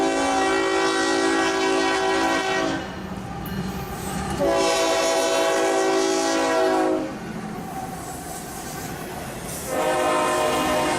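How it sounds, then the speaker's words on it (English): Union Pacific ethanol train led by a GE C45AC-CTE and ET44AC locomotive pair passing through Folkston, Georgia, with loud, sustained multi-tone horn blasts repeating in long bursts over heavy rolling rumble. "Leading the ethanol train was a pair of Union Pacific GE units"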